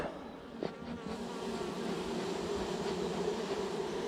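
Honey bees swarm around hives as a colony is split into new hives, producing a dense, steady buzzing drone that stays loud and continuous throughout, with no voices.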